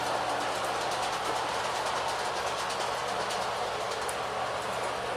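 LGB garden-scale model train running along its track, a steady, continuous rolling rumble with faint rhythmic clicking, close and even throughout with no voices.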